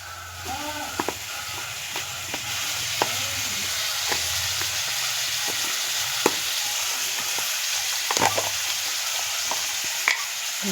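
Food fries in a pan with a steady close sizzle, broken by occasional scraping stirs and light clinks, with faint speech in the background.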